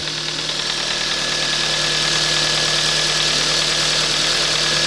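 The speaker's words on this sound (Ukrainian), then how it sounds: "Там можливо чути трішки клапанці, тому ну, зазори там в допусках." A Kia Ceed engine idles steadily up close while not yet warmed up, with a light, continuous ticking rattle from the valves under the hum, no voices.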